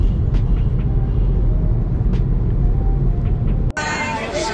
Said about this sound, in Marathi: सकाळी पण एवढं ट्रॅफिक आहे